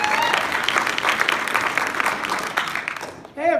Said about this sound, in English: Big round of applause for Garrison, everybody.